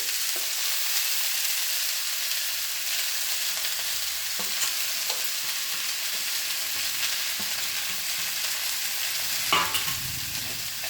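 Drumstick leaves and amaranth greens stir-fry with garlic in a pan, giving a constant close sizzle with occasional light scrapes and taps of a stirring spoon, and no one talking.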